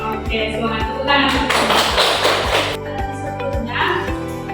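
A high school class claps hands together in rhythm, with sharp, evenly spaced claps running under a voice and a swell of group clapping in the middle.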